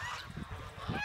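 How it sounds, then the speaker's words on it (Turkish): Farm geese returning home at dusk honk in a faint, overlapping chorus of short nasal calls over a steady background murmur. "Bunlar da kalan kazlarımız."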